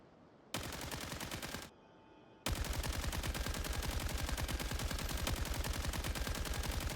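Automatic gunfire in the video game Genshin Impact, during the Clink Clank Clash event: a loud rapid burst of machine-gun shots, a brief lull, then a longer sustained stream of fast, evenly spaced rounds.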